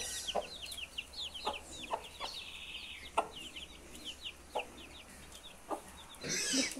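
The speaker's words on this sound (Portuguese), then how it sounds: "eu tô colocando a raçãozinha aqui pra galinha" Chickens cluck and chirp busily on a farm at feeding time, with repeated short calls over a steady background and a louder rustle or flutter near the end.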